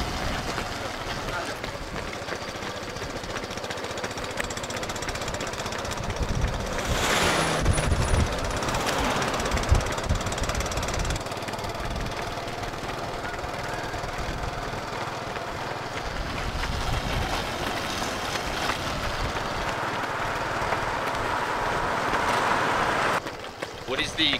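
A steady, loud motorbike engine drone runs throughout with continuous rumbling and wind noise as it rides alongside a 30 km road run; voices occasionally come through.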